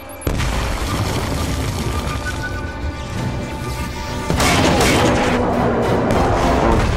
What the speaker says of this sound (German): und schon wieder Granate